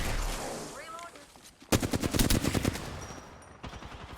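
Video game gunfire bursts out in a rapid automatic volley, loud and close, then trails off into a lighter exchange of shots, with a faint game voice briefly heard before the firing starts.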